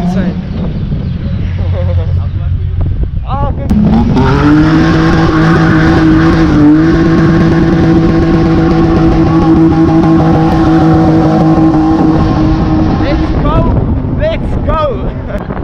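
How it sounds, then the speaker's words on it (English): A loud yellow BMW E92 does burnouts and drifts at an outdoor BMW car meet. Its engine holds a sustained, strained high rev with harsh tire squeal, heard up close and dominating steady background noise. "I'm seeing loads and loads of burnouts"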